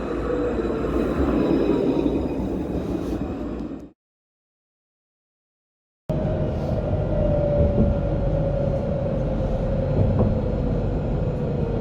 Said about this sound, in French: Tramway T4, direction Hôpital Feyzin-Vénissieux.